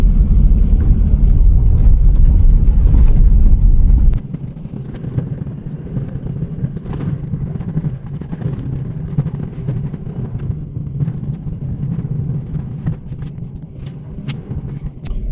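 A car driving along a rural access road, with a heavy low rumble for the first few seconds, then steady engine and tyre noise with intermittent rattles and bumps, close and continuous with no talking.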